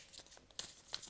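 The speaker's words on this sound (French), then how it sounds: "Je vais juste retirer une autre carte du Dixit." A Dixit card is drawn from the deck, making a few quiet, brief papery rustles and crinkles close by.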